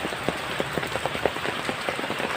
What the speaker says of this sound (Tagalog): Nako na, napakaulan.